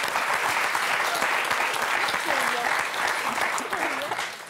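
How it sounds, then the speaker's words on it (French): A studio audience on the Motus game show claps loudly and steadily for several seconds, while a host's voice carries over the applause. "on vous applaudit très fort"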